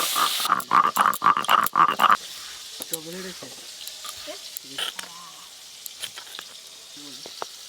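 Black cumin and chopped tomato frying in a pan, a loud crackling burst at first that settles into a soft, continuous sizzle with scattered pops and stirring clinks.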